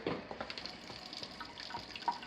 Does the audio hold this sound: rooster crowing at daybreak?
no